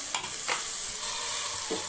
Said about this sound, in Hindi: इसमें ये हमने प्याज का पेस्ट बनाया था, ये जो है इसको भूनेंगे अच्छे से